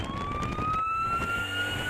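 A police-style emergency siren on an escort vehicle wails with a slowly rising tone over road noise, steady and fairly close, with no talking.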